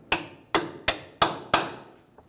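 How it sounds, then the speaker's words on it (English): Five evenly spaced hammer taps ring out on a metal bolt while replacing a lower control arm on a 2015-2019 Hyundai Sonata, each a sharp, close strike with a brief ringing decay. "Just going to give it a few taps with the hammer."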